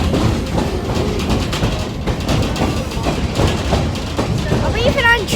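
The Stone Mountain train rumbles bumpily along its tracks, a steady close rattle and clatter of the carriage with uneven jolts, while passengers talk over the noise.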